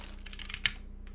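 Quick, soft keystrokes on a computer keyboard fitted with PBT keycaps, a short burst of clicks ending in one sharper tap, faint over a steady low hum.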